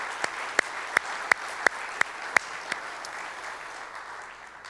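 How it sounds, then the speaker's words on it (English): Audience at a memorial gathering applauds steadily, with a run of sharp, evenly spaced claps standing out over the broad wash of clapping before it thins toward the end. "So please, round of applause to those people."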